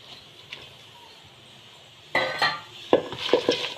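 Chopped onion, coriander leaves, curry leaves and mint get mixed by hand in a bowl: a quiet lull, then scraping, stirring and a few light clinks of a utensil against the bowl.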